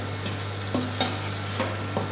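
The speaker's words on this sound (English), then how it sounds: "To the pan, I then add my caster sugar, stirring all the time." Caster sugar being stirred into cooking apples in a pan, a few soft scraping strokes spaced irregularly over a steady low hum, quiet and close.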